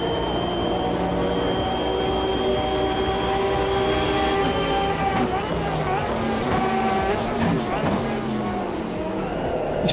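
A GT race car in a racing video game approaches and passes on a hill climb, its engine whine rising and shifting in pitch against a steady roar of other cars, loud and continuous throughout.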